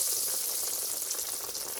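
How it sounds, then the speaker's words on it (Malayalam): Breadcrumb-coated chicken pieces fry in hot oil with a steady, close, dense sizzle and crackle that holds evenly throughout, no voices. "ഇനി നമുക്കിതൊന്ന് പൊരിച്ചെടുക്കാം."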